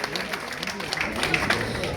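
Applause from an assembled hometown association audience at an annual general meeting, a dense continuous patter of many hands clapping throughout, fairly loud and filling the room, with voices mixed in.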